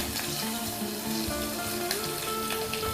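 Green chillies and mustard seeds spluttering in hot oil, a dense close sizzle with scattered pops and crackles throughout, no talking.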